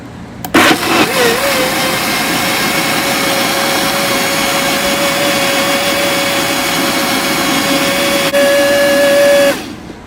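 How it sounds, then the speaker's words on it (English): A loud, steady motor whir from a blender puréeing red enfrijoladas sauce runs almost continuously for about nine seconds, starting abruptly and cutting off at the end, with no talking over it. "I am going to blend it for a couple minutes until it's really smooth and nice and red"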